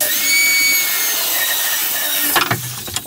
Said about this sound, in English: I'm using two separate skill saws.